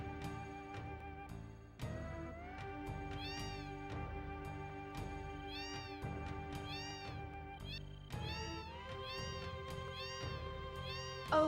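In Final Fantasy 7, inside a cat lady's house, several cats meow again and again in high, wavering cries. The meows ride over steady game music, with no speech over them.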